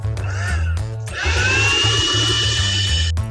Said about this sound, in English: a stubborn blender gave Christianburg some trouble